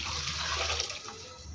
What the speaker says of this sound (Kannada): ಒಂದು ಗ್ಲಾಸ್ಗೆ ಎರಡು ಗ್ಲಾಸ್ ನೀರು ಹಾಕಿ